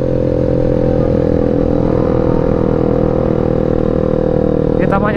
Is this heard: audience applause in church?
no